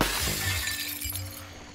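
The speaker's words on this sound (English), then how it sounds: "Ideally, I should actually just break that glass," Glass shatters when struck with a wrench in the video game Prey, a sharp crash followed by tinkling fragments and a fading low rumble of game ambience.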